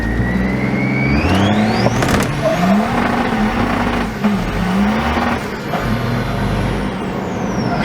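A Nissan Patrol Y60 with a swapped BMW M57 diesel engine and 8HP gearbox accelerates hard with no traction, the loud engine note climbing steadily and close throughout, with a brief hiss like an air release early on.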